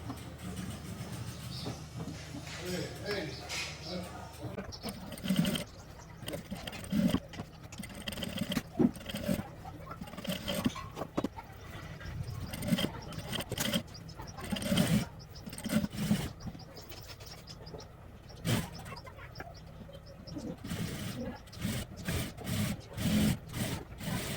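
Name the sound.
sewing machine stitching a kids' gown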